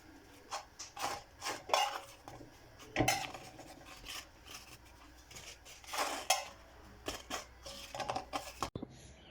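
A pan and metal utensils clink, scrape and tap in scattered bursts while batbout bread cooks, close and fairly quiet, ending with a sharp knock.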